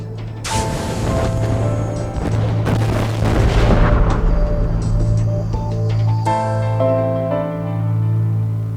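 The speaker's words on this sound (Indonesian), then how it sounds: "Titik ini meledak." A cinematic explosion effect depicting the Big Bang booms in with a deep, heavy blast, followed by rumbling, crackling debris and a sustained low drone that swells and fades across several seconds.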